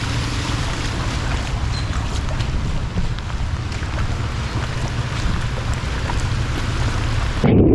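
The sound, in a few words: heavy rain during enhanced habagat monsoon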